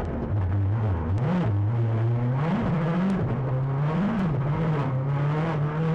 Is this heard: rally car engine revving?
yes